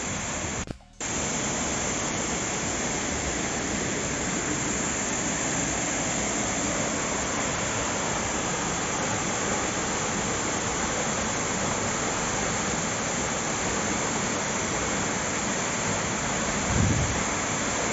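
The Rani Jharna waterfall in Korba, Chhattisgarh, gives off a loud, continuous broadband roar of falling water that lasts throughout without pause, with a brief interruption near the start.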